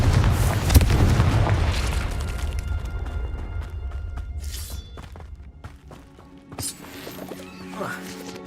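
A Confringo blasting spell from Hogwarts Legacy goes off in a loud, rumbling explosion that slowly fades, followed by quieter footsteps and scattered game effects.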